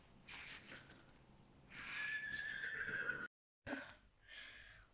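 A horse at a stable yard gives a loud, drawn-out whinny close by, followed after a short gap by a softer snort against quiet outdoor background.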